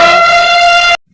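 A single loud, brassy blast about one second long that cuts off abruptly, imitating an elephant's trumpet call.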